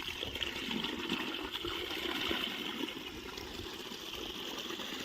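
Water released into a fishing canal rushes in a steady, continuous gush, broad and unbroken with no talk over it.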